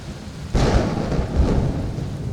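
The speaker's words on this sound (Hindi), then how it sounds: "बारिश होने लगी।" A heavy downpour roars with a deep rumble of thunder that breaks in loudly after a brief moment of rain, a dense, continuous wash of sound as a story effect.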